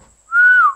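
A person gives a single short, clear rising whistle, close and loud, to trigger a phone-finder app, alone and without talk.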